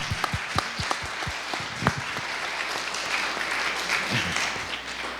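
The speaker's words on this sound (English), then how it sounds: "Hey, let's give this great panel a round of applause." An audience at a census town hall meeting applauds a panel with a steady, moderately distant patter of many hands, a few sharper individual claps standing out early over the dense wash.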